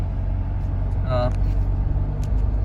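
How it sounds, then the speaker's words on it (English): Inside a Mahindra XUV 700 AWD crossing sand, a low steady engine and road drone fills the cabin, with a brief voice rising over it partway through. "I'm driving through sand right now"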